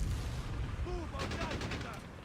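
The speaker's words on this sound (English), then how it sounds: "Scout takes a huge mortar hit on the cutoff." A mortar round striking a scout unit in Company of Heroes 3, heard as dense battlefield rumble and gunfire with an impact burst partway through, while a voice talks over the noise.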